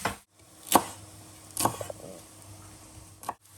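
Knife chopping onion on a board while cooking, a few sharp separate cuts at irregular intervals, close and fairly loud over a quiet background.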